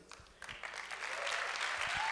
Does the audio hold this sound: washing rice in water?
no